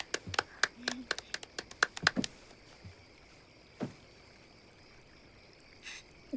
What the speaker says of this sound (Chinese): 鼓掌鼓掌都鼓掌